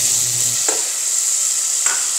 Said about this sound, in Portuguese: Vamos refogar aqui um pouquinho.